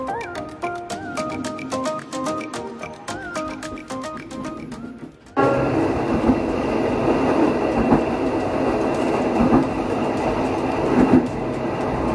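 Sri Tanjung passenger train running on rails between Surabaya and Jogja: a steady, close rumble with rhythmic wheel clicks, building to a louder, fuller roar of rolling wheels and carriage noise partway through.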